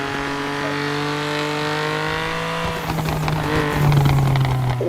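A video-game car with a custom engine and exhaust sound pack hums at a steady drone, then revs and accelerates, its exhaust note rising and turning rougher toward the end.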